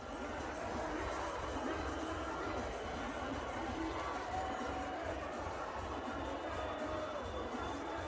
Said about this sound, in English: And this crowd here is enjoying it